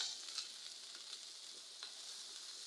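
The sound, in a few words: tomatoes and peppers being sautéed together in a pan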